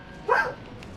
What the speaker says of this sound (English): Quit barking at the neighbors